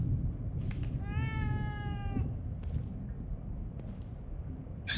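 A cat meows in The Evil Within 2, a single drawn-out, clearly pitched call lasting about a second, set against low game ambience with faint soft noises around it.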